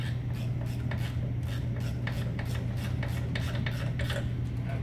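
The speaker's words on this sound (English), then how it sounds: "I'm going to use just a 3/8 ratchet, 6-point socket. I'm going to run these in until they bottom out" A 3/8 ratchet with a 6-point socket runs in the bolts of an integrated parking brake, making a quick steady series of close, fine clicking strokes over a constant low hum, with no talking.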